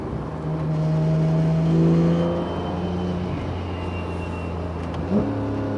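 A Porsche 991 GT3 with FVD Brombacher side mufflers, valve delete and OEM center muffler revs and drones steadily, its exhaust pitch rising and falling as it accelerates, close and loud for several seconds.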